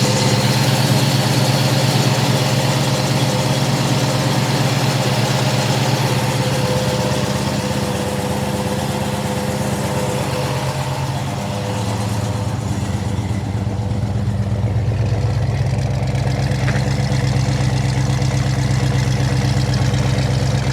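A custom Chevrolet Camaro engine idles steadily after being fired up for the first time, a loud, even rumble with a slight drop in pitch midway, no talking over it.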